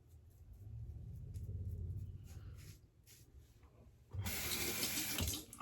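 Hot water runs from a bathroom tap under a low rumble, quieter at first. It then gushes suddenly and loudly into the sink for the last second and a half.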